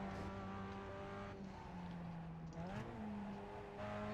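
A race car engine in a Nurburgring racing game holds a steady, loud note, dips as the driver brakes and downshifts into a corner, then rises again on the power, with a faint tire squeal.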